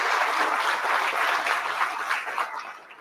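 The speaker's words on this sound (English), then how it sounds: "Give them a round of applause." An audience at a constituent town hall gives a round of applause, a dense, sustained clapping that fills the room and fades out toward the end.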